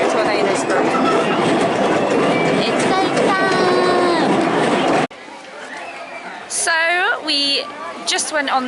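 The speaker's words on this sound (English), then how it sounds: "just went on the nice relaxing train ride as you saw from the footage" A small themed park railway at Paultons Park rumbles and clatters along its track, a continuous rolling noise under overlapping chatter and voices, then dropping away abruptly to quieter talk.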